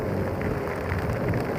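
Heavy rain pours steadily throughout a thunderstorm, a dense close wash of drops with low rumbling underneath, heard during a motorbike stopover as rain gets into a rider's helmet.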